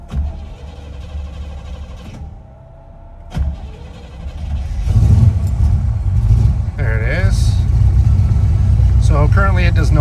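A 1966 Corvette with a 327 V8 and no choke cranks over with a starter whir, catches and settles into a loud, throbbing idle close by, with a voice talking briefly over it.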